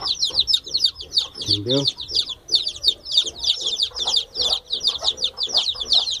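A crowd of chicks separated from their mother hens peeps shrilly and nonstop, close by, while someone speaks briefly over the chorus.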